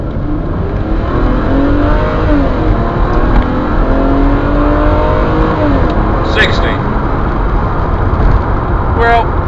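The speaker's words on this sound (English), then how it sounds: "let's see what it does for a 0 to 60 test" A Mercedes accelerates hard in a 0 to 60 run, its engine a loud, sustained drone with rising harmonic sweeps heard from inside the car, without talk.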